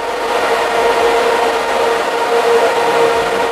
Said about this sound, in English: ASIC miners, these loud, power hungry, just purpose built machines. And they sound like this.